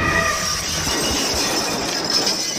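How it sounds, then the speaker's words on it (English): A train in the Paper Train puzzle game rumbles and clatters steadily, with a sustained high whistle-like tone over the rolling noise, loud and alone without talk. "God, that train whistle is loud."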